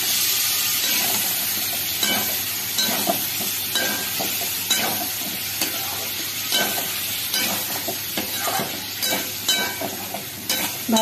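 Potatoes drop into sizzling, cooked-down tomato masala for aloo dum, and a loud, dense frying hiss carries on under regular stirring scrapes and small knocks of a spoon against the pot.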